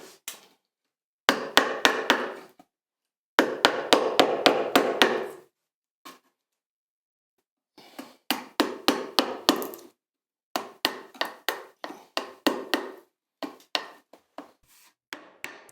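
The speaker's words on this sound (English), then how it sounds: "it's time to chisel it out" Chisel work cutting out a wood joint by hand for a saw bench, a steady series of close, sharp mallet strikes in rapid clusters with short silent pauses between groups, no talking.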